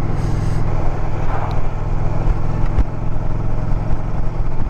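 A 2023 Indian Pursuit motorcycle engine runs while riding, giving a loud, steady, close low drone with a continuous rumble throughout and no talking.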